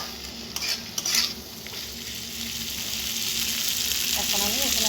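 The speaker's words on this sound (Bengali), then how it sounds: "সামান্য 2 মিনিট নেড়ে চেড়ে" Dal and vegetables frying in a pan give a steady, close sizzle with brief scraping stirs near the start, the hiss holding evenly throughout without speech.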